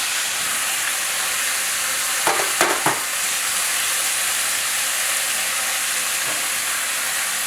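Spatchcocked whole chicken searing in a pan, a loud, even hiss and sizzle running throughout, broken by a few short bursts of sharper spitting and clatter as it is flipped, with no voices.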